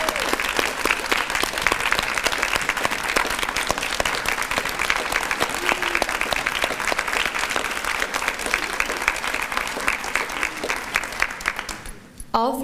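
Steady audience applause in a ceremony hall for three Senior Volunteer Hall of Fame inductees, many hands clapping evenly and densely for about twelve seconds before stopping abruptly.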